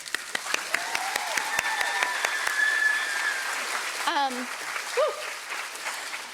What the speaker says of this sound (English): So may we give them a round of applause.